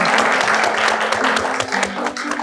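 Group clapping at a gathering with a dog and reptile community, a short burst of applause from a small crowd with a steady tone humming beneath it.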